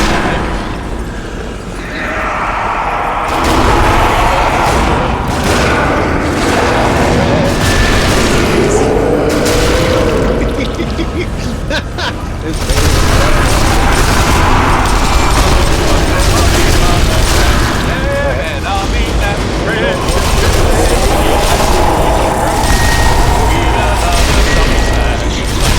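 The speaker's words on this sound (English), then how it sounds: "all the gunfire going on" Sniper Elite: Nazi Zombie Army gameplay keeps up loud gunfire and booming explosions, a dense and continuous barrage with repeated sharp shots and heavy blasts, while a voice talks over it now and then.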